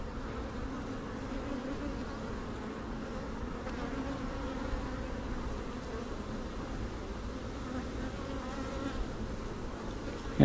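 Steady, dense hum of honeybees swarming around an open hive frame from a healthy colony, continuous and fairly close with no voices.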